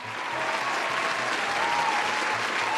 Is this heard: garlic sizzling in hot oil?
no